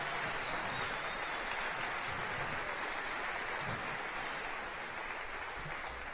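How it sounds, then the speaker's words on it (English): A dense, even wash of audience applause follows a live band performance at a music school event, many hands clapping continuously at a moderate, somewhat distant level without pause. "Can we give the Cream Band another big round of applause?"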